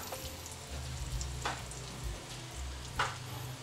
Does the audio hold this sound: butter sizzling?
yes